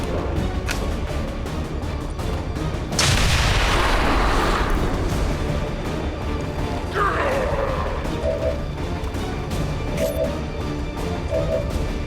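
Claymore detonating in the video game XCOM 2, destroying an enemy's cover: a single loud booming blast with crashing debris rises out of a continuous game soundscape, followed by smaller mechanical clanks.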